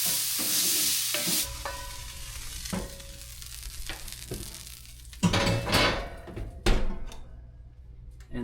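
Sausage sears in a very hot cast iron pan, a steady close sizzle broken by several sharp scrapes and clanks as the pieces are stirred and turned, no talking.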